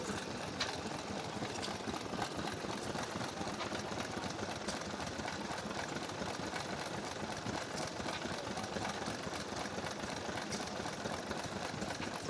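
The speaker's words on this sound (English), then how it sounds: "Nice Vista H here, driving a little piston pump." A vintage Vista H stationary engine drives a small piston pump at an outdoor engine rally, ticking over with a quiet, steady, even mechanical chuff heard from a short distance.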